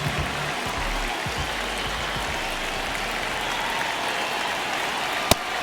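Stadium crowd in an MLB The Show baseball game, White Sox versus Rays, roaring in a steady, dense wash of cheering and noise that holds level throughout, with one sharp crack near the end.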